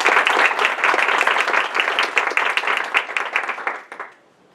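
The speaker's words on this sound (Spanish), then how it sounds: "Un aplauso, por favor." Audience applause at an academic lecture, a dense burst of clapping from a seated crowd that holds steady and then tapers off to quiet near the end.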